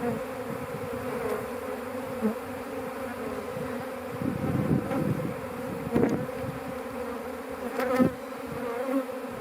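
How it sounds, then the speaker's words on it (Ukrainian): A swarm of honeybees is tipped from a box into a beehive, filling the air with a dense, close buzzing that swells and dips, with a few soft knocks and thuds, and no talking. "Зараз ще частинка бджіл е, залишилась в ящику, зараз їх ще також сюди висиплю"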